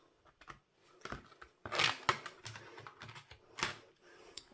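Card stock being folded: a handmade die-cut greeting card made with an ink resist technique and embossing folder, going from flat to standing. Several crisp papery creases and taps, close and fairly quiet, in short irregular bursts.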